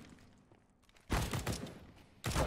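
Two loud bursts of rapid automatic gunfire in CS:GO, one long volley followed after a short gap by a second, close and harsh with no talk over it.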